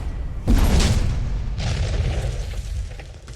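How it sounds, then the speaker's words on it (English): Cannon unit being destroyed in the KARDS World War II card game: a deep, loud boom that rolls into a sustained rumbling explosion and slowly fades, with no talking. "let's take out the cannon"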